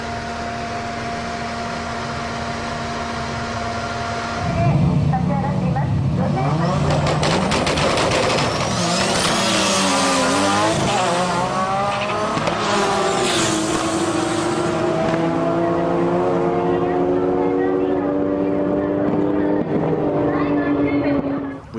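A Skyline R32 drag car fitted with 3037S turbos at a Sendai drag event idles quietly, then barks into a loud, rising engine roar that holds strong and close, with talk mixed over it.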